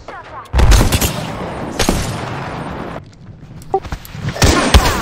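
Gunfire in a first-person shooter erupts in loud, dense bursts of shots, with sharp cracks and booms clustering at the start and again near the end, layered over busy game ambience.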